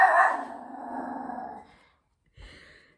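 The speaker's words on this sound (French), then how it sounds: "Ce chien-là, c'est un cas." A dog barks and growls up close with a single drawn-out, noisy vocal burst that fades out, then a brief short yelp after a pause.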